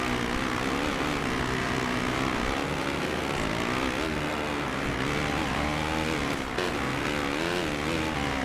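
Kawasaki motocross bikes race in the video game MXGP 2, their engines a loud, steady, dense drone with shifting revs throughout, several machines blending together.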